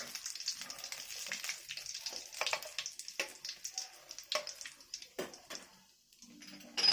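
Whole spices (cloves, cinnamon, green cardamom, bay leaves and chilies) fry in hot oil, giving a soft, continuous crackling sizzle with scattered pops, faint and close, and no one talking.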